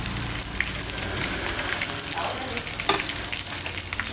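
Thin slices of paddy eel sizzle and crackle steadily in a hot pan, a soft continuous frying hiss with small pops, no talking.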